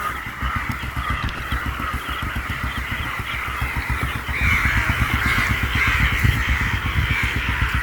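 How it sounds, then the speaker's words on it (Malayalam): Many crows caw loudly and continuously on Kakkathuruthu island in a dense, overlapping chorus, harsh calls piling on one another as if squabbling, with traffic rumbling faintly in the background. "കാക്കകളുടെ എന്തോ ഒരു ചേരി തിരിഞ്ഞിട്ടുള്ള അടിയോ"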